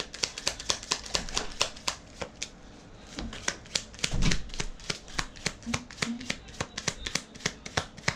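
Tarot cards being shuffled by hand, a steady run of crisp riffling snaps and flicks close up, with a brief soft thump partway through and no talking.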